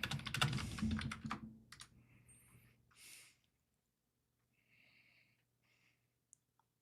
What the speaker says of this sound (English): I do look at my keyboard to type.